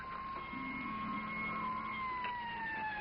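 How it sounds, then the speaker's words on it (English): A fire engine siren wails steadily in the distance, its tone slowly falling, faint but clear with no voices. "Oh, the fire engine. Sounds like they're heading our way."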